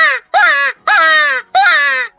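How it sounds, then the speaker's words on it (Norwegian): Crows give three loud, harsh caws in an even rhythm, each separated by a short gap, close by and alone. "Kråkeskrik."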